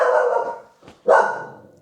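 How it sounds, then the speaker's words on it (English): A dog barks at another dog out on the street, two loud, close barks separated by a short pause, heard alone indoors. "my dog wants to bark at some other dog on the street"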